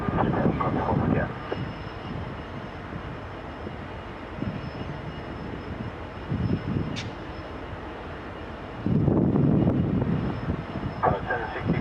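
Jet engine rumble from an Airbus A340 landing on runway 34L at Kingsford-Smith airport sits under radio chatter and cockpit voices. The roar swells loudest near the end.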